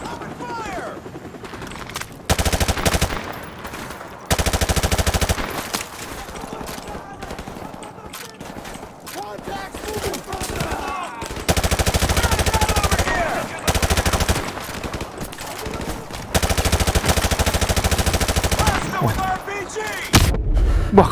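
Sustained bursts of machine gun suppressing fire in Call of Duty Modern Warfare Remastered, loud repeated volleys separated by brief lulls, with booms and someone talking excitedly over the combat.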